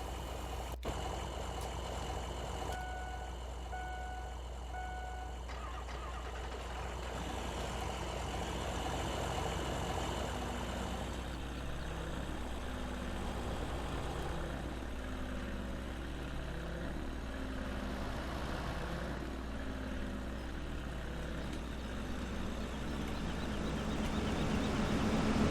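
A truck engine in Farming Simulator 17, a steady low idling drone with mild revving shifts and faint game tones, running alone without speech.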